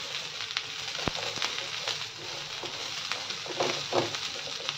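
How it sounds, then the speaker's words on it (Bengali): Green chillies fry in a pan for homemade green chilli sauce, giving a dense continuous sizzle and crackle throughout, close up, with occasional faint stirring knocks and no talking. "গ্রিন চিলিগুলো থেকে বেশ ঝাঁঝ বেরিয়ে গেছে"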